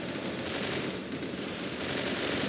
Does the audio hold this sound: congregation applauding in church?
no